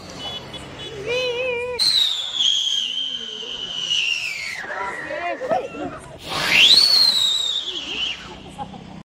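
Diwali musical rocket firecrackers shriek with rising and falling whistling tones, several sliding notes in sequence, loud and near, with a burst of crackle between whistles.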